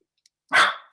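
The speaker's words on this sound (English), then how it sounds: "I apologize for the dog." A single loud, sharp dog bark sounds close by against an otherwise quiet indoor background, preceded by a faint tick.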